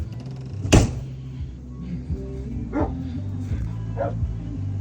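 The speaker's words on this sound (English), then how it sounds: "Dee Dee, stop barking." A dog gives one sharp bark, followed by a few softer yips and whimpers spaced apart, fairly close by at Waupun County Park campground.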